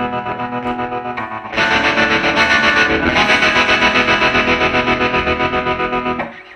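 A Silvertone 1423 Jupiter electric guitar, a reproduction of a 1950s model, played through effects with heavy distortion and chorus, holding a thick, sustained wall of chords that swells louder partway through, then cuts off.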